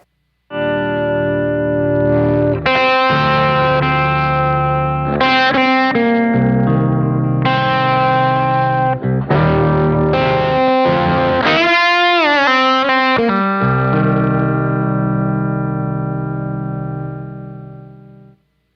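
Electric guitar played through an Emperor effect pedal on a small pedalboard, ringing out sustained chords with a chorus-like shimmer and distortion, loud and alone for almost twenty seconds before fading.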